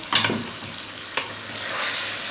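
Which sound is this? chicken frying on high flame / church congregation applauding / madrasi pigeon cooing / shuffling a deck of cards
chicken frying on high flame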